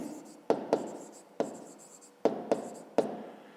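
A maths solution is written by hand in six or seven crisp, separate strokes, close and quiet, spaced unevenly over a few seconds.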